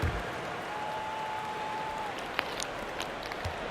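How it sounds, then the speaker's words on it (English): Arena crowd applause in an NBA 2K25 basketball game between the Celtics and their opponent, a steady diffuse wash of clapping and crowd noise with a sustained tone and a brief sharp tick partway through. "Give a big round of applause for Celtics Entertainment"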